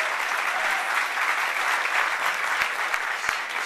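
A festival audience at a Sundance post-premiere Q&A applauds steadily to welcome Roger Ross Williams, a dense, even clapping that holds at one level throughout without voices on top.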